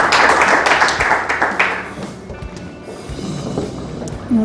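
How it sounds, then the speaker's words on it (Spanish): Audience applause welcoming a speaker at a civil society gathering, a burst of many hands clapping loudly at first, then thinning to scattered claps and fading out. "le damos la bienvenida con un fuerte aplauso"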